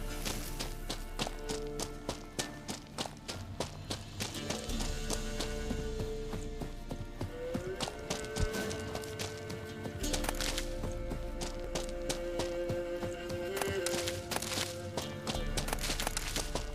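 Roach, a horse in The Witcher 3, galloping with rhythmic hoof thuds under a continuous game music score and ambient sound.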